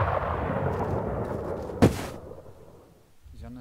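A single sharp sniper shot cracks once in the online zombie survival game Infestation: Survivor Stories, standing out over a dense rumble of game noise before it fades. A voice speaks faintly near the end.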